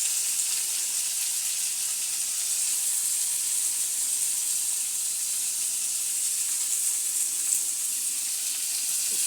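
Potatoes fry in a hot pan with a steady, bright sizzle and hiss that holds evenly throughout, close and fairly loud, with no voices over it.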